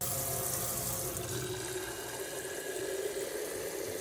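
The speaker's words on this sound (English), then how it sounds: "Now we're going to fill it with water." Steady rushing of water pouring into a quart jar, loud and continuous with no talking.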